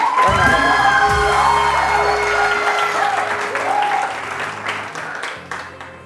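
Loud, sustained clapping fills a TV morning show studio, mixed with cheers and whoops over a bright musical jingle, the applause gradually tapering off over about six seconds.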